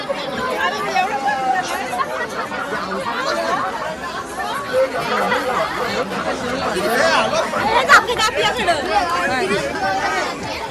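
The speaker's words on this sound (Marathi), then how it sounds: "ही गर्दी." Dense crowd chatter at the Kalamb fair (jatra, urs), a steady babble of many voices close around with no single voice standing out, continuous for the whole stretch.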